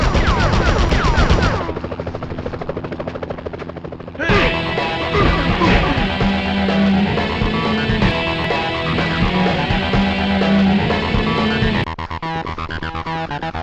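A police helicopter fires on the player in the 2000 Spider-Man game on PlayStation. Bursts of gunfire and crashes cut through a loud, dense wash of game music and effects.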